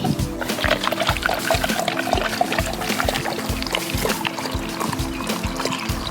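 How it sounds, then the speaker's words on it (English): Water is poured through a paper funnel into a homemade water rocket outdoors, a steady close trickle and splash with rhythmic bursts throughout, with faint voices in the background. "So Lena, I need you to hold this here while Papa pours the water in."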